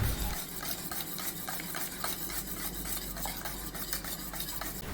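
Beaten egg being stirred into a banana and milk pudding mixture in a pot, a steady soft swishing and light scraping with faint utensil clinks, continuous and close with no talk.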